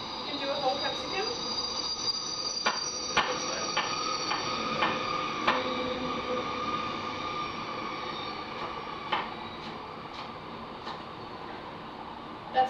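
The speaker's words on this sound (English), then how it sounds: "That's a coal train." A long coal train rolls past with wheels squealing and screeching in repeated high-pitched waves over a steady rail rumble, sustained and fairly near.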